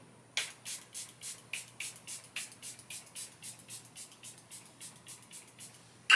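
A rapid series of short, hissy spray bursts of Charlotte Tilbury Airbrush Flawless Setting Spray onto a face, around twenty in quick succession, close by and fairly quiet, with no talking.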